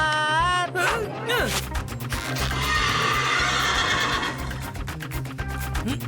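Cartoon horse neighing, a loud shrill whinny that wavers and descends, followed by busy clattering and hoof-like clip-clop with a voice mixed in.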